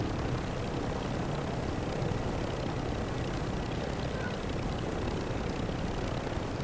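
A helicopter flies overhead in a battle royale video game, its rotor wash a steady, dense broadband whir that holds at an even level for the whole stretch without fading.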